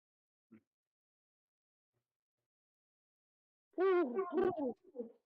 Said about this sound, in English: go back to their roost, strut around with their other little pigeon friends